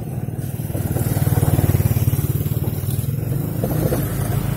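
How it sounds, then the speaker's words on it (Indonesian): Several motorcycles pass over Duwet bridge on the Kulonprogo–Magelang border, their engines droning and swelling close by in a steady, continuous rumble with no talk. "Nah, ini ada beberapa motor yang lewat."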